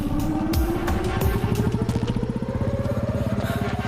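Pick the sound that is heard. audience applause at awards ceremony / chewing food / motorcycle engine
motorcycle engine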